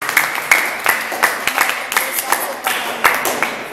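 Children clap together in a small room at an orphanage in Pakistan, a loose run of sharp, nearby hand claps, somewhat uneven, with a few louder accents.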